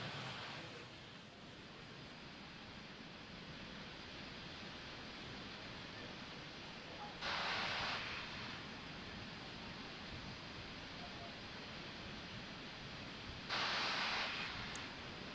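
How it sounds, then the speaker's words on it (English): LOX lines venting on a Falcon 9 rocket at the launch pad before a Starlink launch: a continuous broadband rushing hiss, with two louder, sharper hissing bursts a few seconds apart. "we're starting to hear some hissing and popping. This is venting from our LOX lines"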